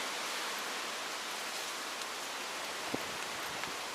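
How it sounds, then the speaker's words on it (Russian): Gusty wind at a beach campsite, a steady broadband rushing roar that fills the clip at moderate level, with a few faint knocks and flaps underneath. "Вон, а какой ветер дует, слышите?"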